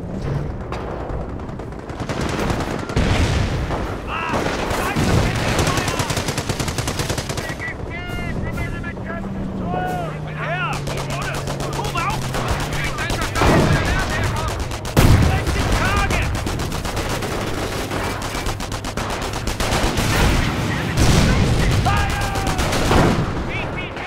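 Sniper shots and machine gun bursts from the Company of Heroes battle game ring out loudly alongside explosions and combat noise, with brief voiced unit commands and shouts mixed in throughout.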